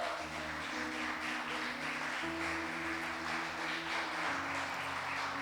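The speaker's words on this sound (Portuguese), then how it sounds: "Aplauda o Senhor." A church congregation applauds in a steady, dense wash of clapping that holds evenly throughout, with sustained musical tones beneath it.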